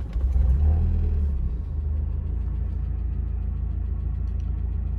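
A Mazda Miata engine fires up with a loud low rumble, then settles into a steady, even idle close by.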